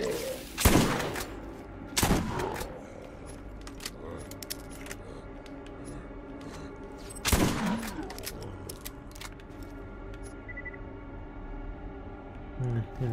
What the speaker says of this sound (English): When in doubt, use the shotgun.